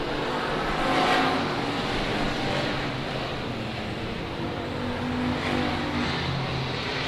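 Race cars roar around a dirt oval during a heat race, a thick continuous engine drone with engines swelling as cars pass, loud and steady throughout.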